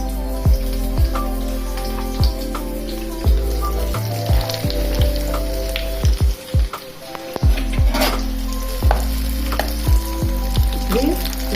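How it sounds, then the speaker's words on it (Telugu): Food fries in a pan over a low flame with a steady, close sizzle, broken by repeated taps and scrapes of a utensil, with no talking. "అందుకని సిమ్లో పెట్టుకొని ఫ్రై చేసుకున్నాము."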